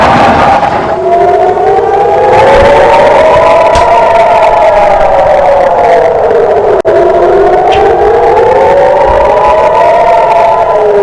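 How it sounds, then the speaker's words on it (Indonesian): A loud air raid siren wailing, rising and falling slowly in long sweeps, steady and continuous throughout, in the city of Ashkelon, Israel, during rocket interceptions. "Sirine bergema di kota Askelon, Israel kala militer mencegat roket-roket yang diluncurkan Hamas dari jalur Gaza."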